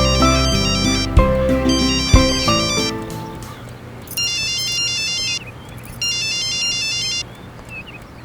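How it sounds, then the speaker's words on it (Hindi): A mobile phone ringtone for an incoming call chimes in repeated bursts, first over a loud music bed, then ringing alone and clearly through the second half. "क्या हुआ? उठा क्यों नहीं रहे हो? हौसला फोन कर रहा है।"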